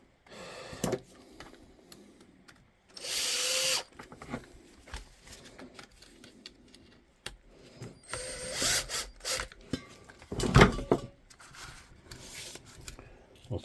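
A power drill drives screws while a DeWalt tool is being repaired, with short whirring bursts among quieter clicks, taps and handling noise.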